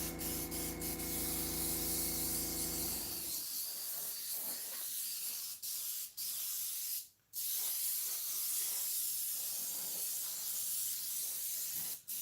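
Gray spray paint hisses from an aerosol can onto a plastic miniature in long, close, loud bursts, with one brief pause partway through, following a short stretch of louder tonal noise at the start.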